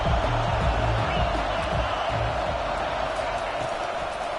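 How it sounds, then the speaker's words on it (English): Stadium crowd roaring at a college football game, a steady dense wash of cheering that fills the space and holds loud throughout. "Listen to this crowd just shaking the girders of this place"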